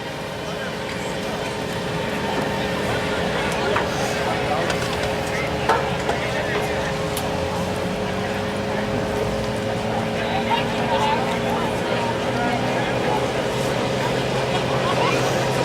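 A 1,200-pound modified lawn tractor drones steadily in a pulling competition at a night event, a continuous engine roar heard from a distance with crowd and announcer ambience beneath.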